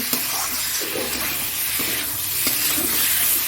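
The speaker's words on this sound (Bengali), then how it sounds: "এবার দেখো মশলাটা এবার ভালো করে কষাচ্ছি" Spice paste for an egg curry sautéing in a pan: a continuous close sizzle and hiss, with a spatula scraping and stirring as it goes and no talking.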